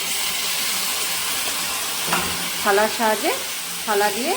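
Potatoes and eggplant sizzle loudly in spiced oil, a steady frying hiss throughout, with a few short tonal squeaks and clinks near the end.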